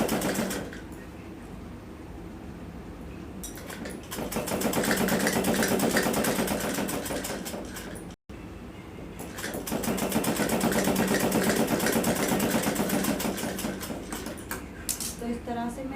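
A sewing machine runs long stitches along a sleeve hem folded up one inch on a girl's suit, in two rapid rattling bursts separated by a short pause, with a voice talking over it.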